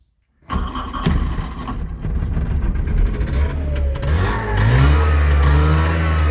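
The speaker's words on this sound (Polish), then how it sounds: "No to jedziemy trabantem. Odpalamy go." A Trabant two-stroke car engine cranks and catches after a short silence, then runs loud and close with a buzzy, uneven idle before rising into stronger revs.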